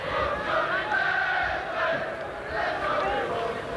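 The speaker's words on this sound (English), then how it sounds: "you can hear what the Leeds crowd think of him" A Leeds rugby league crowd in a stadium chanting in unison at a Warrington versus Leeds match, a loud sustained rhythmic chant swelling and falling without a break.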